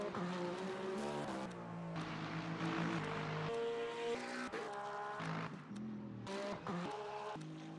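A Porsche car engine drones with steadily shifting pitch, rising and falling as if revving and changing gear, with a few abrupt breaks, loud and continuous throughout.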